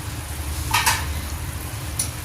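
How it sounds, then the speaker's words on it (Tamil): Food hits a hot pan in a home kitchen and sizzles, making a continuous, fairly loud hiss with a brief brighter burst of crackle near the start and no speech. "இப்போ வந்து இதை ஊற்றிடலாம்."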